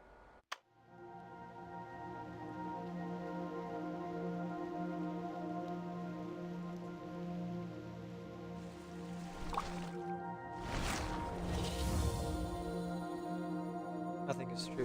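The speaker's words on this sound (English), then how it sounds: "Entering the stage in the rain." Soft rain patter in the game Reverse: 1999 over a steady droning soundtrack, with a brief burst of splashing noise near the end.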